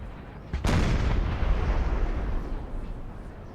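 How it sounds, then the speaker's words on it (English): Bavarian 6-pounder artillery guns firing on a hill in Napoleon Total War, a sharp heavy boom followed by a long rumbling roll that slowly fades, distant guns echoing behind. "These Bavarian guns have not stopped firing all day."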